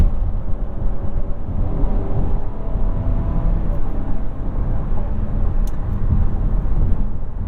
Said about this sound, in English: Yep, it's definitely a car.